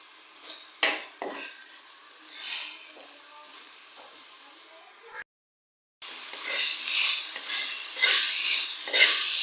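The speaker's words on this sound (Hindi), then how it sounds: "अदरक लहसुन का पेस्ट ऐड करने के बाद हम इसे 2 से 3 मिनट तक अच्छी तरह से भूनेंगे।" Ginger garlic paste frying with minced meat (keema) in a pan: close spoon scrapes and clinks over a light sizzle, a brief silent gap midway, then denser, louder sizzling with repeated stirring.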